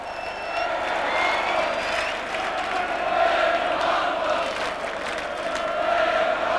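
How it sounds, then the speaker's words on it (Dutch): A large crowd at a Feyenoord evening event in Ahoy applauding, a big rolling wave of clapping mixed with cheers and shouts, swelling and sustained in a large hall. "Geef een hartelijk applaus nog even"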